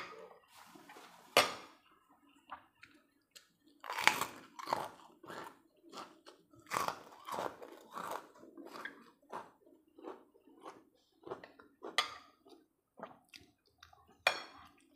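People eating a spicy chilli meal in the morning, with close chewing and crunching mixed with clinks of cutlery and dishes in irregular bursts, fairly quiet, no speech.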